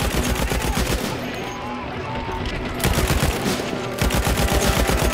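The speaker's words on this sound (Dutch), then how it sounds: "op en neer met die mitrailleur" Dense bursts of dramatized WWII machine-gun fire, loud and continuous, from a battle scene. The rattling volleys come in close succession, with a brief lull in the middle.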